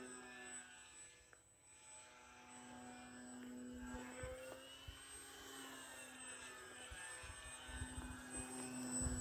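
Fun Cub radio-controlled model airplane flying outdoors in cool air, a steady engine or motor drone holding throughout at moderate distance, with faint wind and handling noises beneath.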